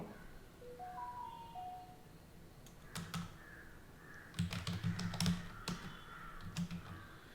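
Fingers tap a computer keyboard during a C programming lesson, in short bursts of quiet clicks with a pause between, over faint background tones and no speech.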